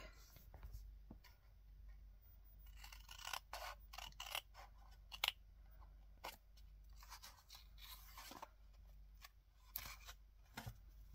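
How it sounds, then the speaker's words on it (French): Scissors cutting close by, a run of short snipping and scraping strokes with irregular rhythm, soft and quiet overall with faint background hiss and no talking. "Et je vais venir couper."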